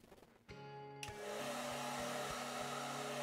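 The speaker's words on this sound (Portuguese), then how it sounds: "Deixa eu pegar aqui o secador." In the Animal Shelter Simulator video game, a hair dryer blows on a wet dog, switching on after half a second into a loud, steady whirring roar with a low hum that continues to the end.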